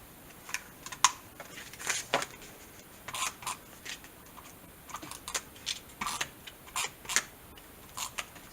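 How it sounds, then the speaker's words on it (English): A tape runner pressing adhesive onto a handmade ribbon card gives a series of soft, close clicks and short taps in an uneven rhythm, quiet and without talk. "Grab your tape runner."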